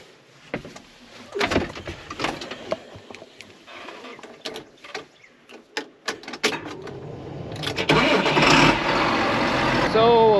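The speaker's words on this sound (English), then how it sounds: "So we'll let the tractor warm up a minute" A tractor engine starts up on a farm and settles into a steady, loud running sound as it warms up, after a stretch of people talking and scattered clunks and clatter.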